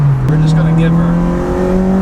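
A Honda Civic EP3 Type R engine pulls hard under acceleration. A brief dip marks the shift from second to third gear, then the steady rising drone continues loud from inside the right-hand-drive car.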